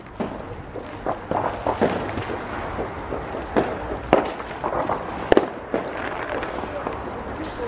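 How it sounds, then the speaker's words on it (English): Bonfire Night fireworks crackle and pop in scattered bursts, some sharp and close, others softer and distant, over a murmur of voices and footsteps outdoors. "I'm going to try and get some footage of some fireworks if I can."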